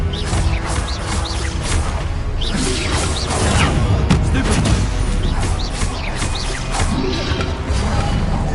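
In the video game Hogwarts Legacy, the Expelliarmus spell goes off among loud, continuous combat effects: whooshes, crashes and impacts layered over one another with no pause.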